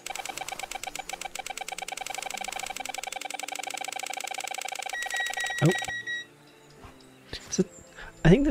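Rapid electronic beeping from a store checkout scanner in Treasure Hunter Simulator repeats steadily and fairly loud for about six seconds, then stops, leaving brief faint game sounds.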